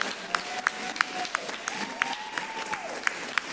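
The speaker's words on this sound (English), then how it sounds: "give him a big round of applause" A live show audience claps steadily at moderate volume, a dense wash of applause punctuated by sharper individual claps, with faint background voices or a whistle running underneath.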